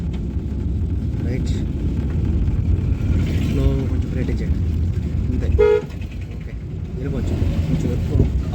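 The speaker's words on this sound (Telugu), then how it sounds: "హార్న్ కొట్టాలి రైట్ ఓకే వెళ్ళిపోవచ్చు" A car horn sounds in short toots over steady road noise while driving, with a person talking throughout.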